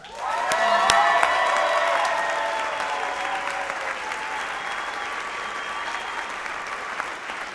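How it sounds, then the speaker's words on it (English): Applause and cheering at a university awards night for Matt Fenton, with whoops and shouts over steady clapping that swells early and then settles into a long, softer run. "have one last round of applause for Matt Fenton?"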